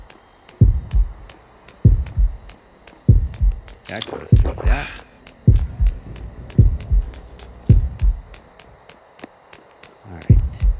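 Killer-approach heartbeat warning in the Horrorfield horror game, a steady series of deep, loud double thumps about once a second under a low hum, with a brief spoken remark and a sharp noise burst midway.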